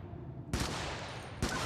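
Two loud, separate shots from the AR-19 Liberator assault rifle in the video game Helldivers, each a sharp crack about a second apart, with a quiet lead-in before the first.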